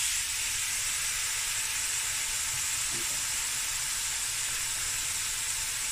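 A seafood mix with mussels added to a hot pot for Cape Malay seafood akhni, producing a continuous, even, loud hissing sizzle with a faint knock near the middle and no talking.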